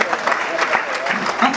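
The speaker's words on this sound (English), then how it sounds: "you should give yourselves a round of applause, really" A fan convention audience at Red Dwarf's Dimension Jump XIX in 2017 claps for itself, a short burst of moderate applause with a few voices mixed in.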